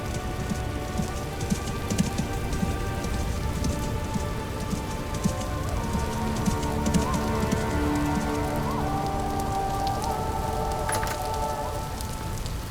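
Steady rain pours continuously in the video game Vintage Story, a dense, even hiss of drops on surfaces that lasts throughout, with soft tonal music faintly underneath.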